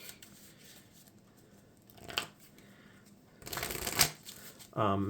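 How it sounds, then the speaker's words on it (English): Marvel Champions game cards are shuffled close by in two quick riffling bursts over faint background noise, with a brief voice cutting in at the end. "So I'll shuffle him in real quick."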